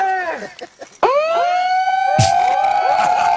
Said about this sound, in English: I love the multi-sirens.